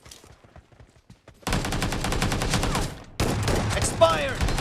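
Video game shotgun fire: a few faint shots, then dense rapid bursts of blasts and gunfire in two loud stretches, with game voice callouts mixed in.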